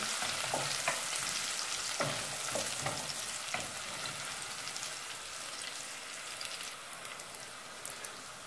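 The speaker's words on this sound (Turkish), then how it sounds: "Birkaç dakikada sarımsak da sotelenecek." Garlic sizzles and crackles steadily in hot oil in a pot, a close, continuous frying hiss with occasional soft pops and stirring clinks.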